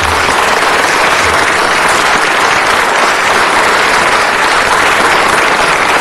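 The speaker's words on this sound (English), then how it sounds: "I hope you'll join me in a great round of applause for all of them." A council chamber crowd applauds LAPD Northeast Division officers with loud, dense, continuous clapping that fills the room evenly for the whole stretch and has no talking over it.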